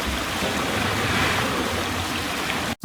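A boat motors through waves toward Fitzroy Reef, heard as a close, steady rush of hull wash and splashing water with no voices, cut by a brief dropout just before the end.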